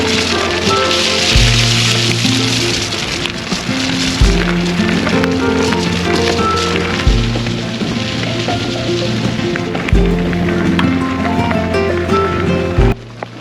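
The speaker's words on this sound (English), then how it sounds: "It is raining." Steady rain falling outdoors, a continuous patter of drops on surfaces with a few heavier thuds recurring through the background.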